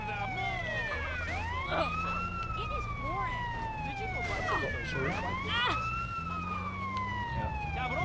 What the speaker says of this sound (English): Yeah, you hear the sirens